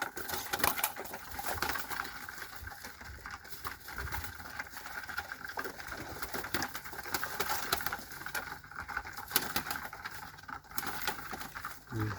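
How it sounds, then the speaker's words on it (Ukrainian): Pigeons coo and flutter in a steady, busy clatter close by, with scattered wingbeats and shuffling throughout, no voices. "Ось такі голуби."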